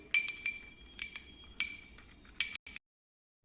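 A spoon clinks against a bowl while salt and water are stirred together for dahi vadi batter: a handful of sharp, close metallic taps in an uneven rhythm, then sudden silence.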